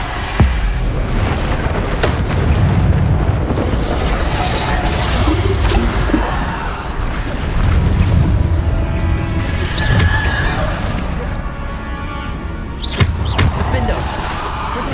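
Repeated spell blasts from Bombarda in Hogwarts Legacy on PS5, loud booming impacts scattered through busy combat noise, with game voices shouting over the fight.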